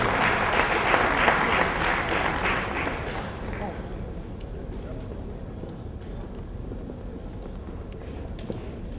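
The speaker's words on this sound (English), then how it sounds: "Can we have a round of applause?" Audience applause at the launch of Nigeria's Alternative Securities Market, a loud burst of many hands that fades after about four seconds into quieter hall ambience with scattered claps.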